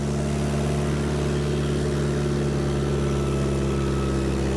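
An old tractor engine runs steadily while plowing snow, a loud, close, continuous low drone with strong harmonic hum and no talk.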